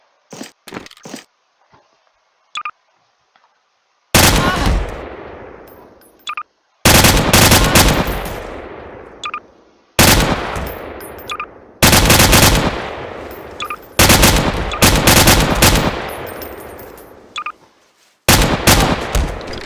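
Gunfire in Garry's Mod, loud and close: bursts of rapid automatic fire and heavy single shots come in separate volleys, with short gaps of near silence between them and a few faint clicks at the start.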